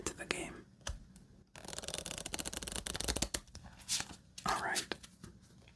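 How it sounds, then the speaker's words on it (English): A deck of playing cards is quickly shuffled at close range, with riffling bursts and crisp flutters over a few seconds, set between soft whispery sounds. "one more quick shuffle"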